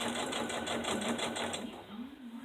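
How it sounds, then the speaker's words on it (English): A sewing machine stitches down the middle through many layers of fabric for a handmade children's cloth book, a steady close whirring with a tone that wavers slightly as it works, while a voice talks over it. "Okay, I'm going to stick it to the machine. And you are going to stitch it right down the middle."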